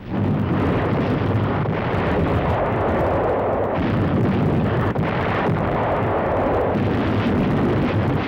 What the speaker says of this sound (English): Yank artillery cracks down on a Nazi bastion in the harbor as point-blank firing razes the last German stronghold